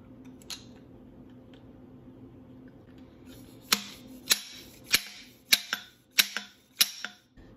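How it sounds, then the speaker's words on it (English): A bushing being driven into the fork of a 1990 Kawasaki Ninja ZX7 motorcycle: after a quiet start, about eight sharp, close metallic taps land roughly every half second, each one loud and crisp. "so now I need to drive the bushing"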